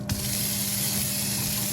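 Water runs steadily from the pull-down sprayer of a Dalmo touchless kitchen faucet, a continuous close hiss with no pauses.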